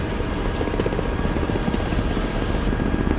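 Steady, close helicopter rotor chop from a flight combat game on a Syria war server, a loud continuous thumping drone with no break and no talk.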